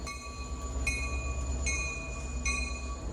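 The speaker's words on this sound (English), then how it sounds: "Readville Switcher, an MBTA shunting engine based in Readville, Massachusetts." MBTA shunting locomotive, the Readville Switcher, running near Boston, Massachusetts: a steady rumbling drone with three evenly spaced sharp metallic tones layered over it, heard from nearby without any voices.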